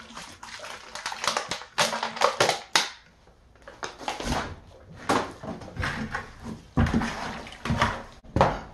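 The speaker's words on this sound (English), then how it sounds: "So let's mix up some mortar, lay down a bed, and then install the new shower base" Mortar for a shower base bed being mixed with bottled Niagara water in a bucket, irregular wet scraping, sloshing and gritty crunching strokes in bursts with short pauses, close by.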